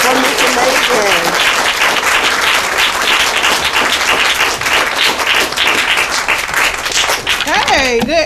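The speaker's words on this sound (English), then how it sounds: "can we please give a large round of applause for Miss Megan?" Applause for Miss Megan at the 2023 WRAAP graduation: a dense, loud crowd clapping continuously for several seconds, with whoops and cheering voices rising over it near the start and end.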